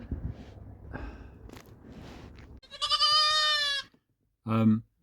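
A sheep bleats twice inside a car, a long wavering call followed by a shorter one after a brief pause, loud and close, following some low murmuring and rustling.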